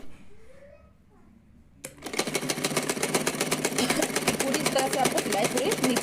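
A sewing machine stitches the long seam of a floor-length gown made from a saree. It starts abruptly after a quiet moment with faint low voice sounds, then runs as a steady, fast, close mechanical chatter to the end.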